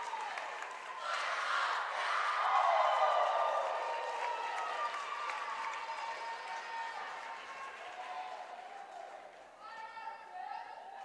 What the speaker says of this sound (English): We have a very lively crowd here today